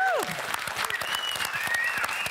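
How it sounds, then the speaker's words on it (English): Crowd at the Royal Children's Hospital Good Friday Appeal in Melbourne applauding the final tally, brisk overlapping claps from a moderate group, close and lively, with a faint whistle-like tone over it. "There they all are, all applauding."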